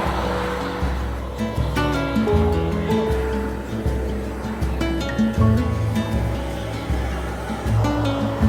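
Beryl Spring, a thermal hot spring in Yellowstone, gives off a loud, steady roaring hiss of venting steam that continues without a break, with some tonal ringing mixed in.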